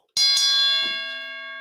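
A single bell struck once in tribute, sharp metallic onset followed by a long, steady ringing decay with clear overtones, close and loud with no talk.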